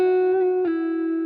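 A sustained electric guitar note held under heavy reverb, loud and ringing, with a slight pick attack partway through before the tone keeps sustaining.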